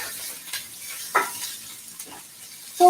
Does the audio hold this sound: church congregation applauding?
no